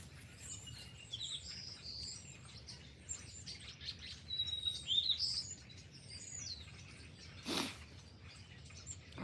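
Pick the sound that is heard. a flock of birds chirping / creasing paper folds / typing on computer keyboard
a flock of birds chirping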